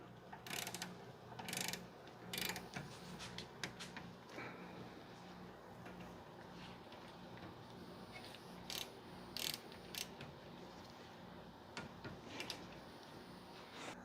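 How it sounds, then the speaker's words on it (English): Torque wrench tightening the rear brake bolts on a 2011-19 Ford Explorer during a rear brake replacement, a series of sharp ratcheting clicks in short bursts over a quiet workshop background, with no talk. "And these bolts get torqued down to 24 foot-pounds."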